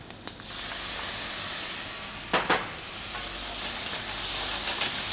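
Boletus mushrooms fry with leeks, garlic and onion in a pan, giving a loud, steady hiss and sizzle throughout, broken by a couple of brief stirring scrapes, with no talking.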